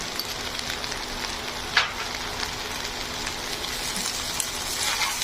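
Fried rice with vegetables sizzles steadily in a pan while being stir-fried, with a soft scrape or knock of the spatula now and then against the constant fry.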